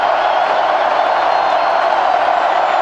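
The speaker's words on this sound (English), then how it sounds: "the crowd gets a little bit loud" A football stadium crowd at a college game swells into a dense, continuous roar of many voices, loud and unbroken with no single cheer standing out.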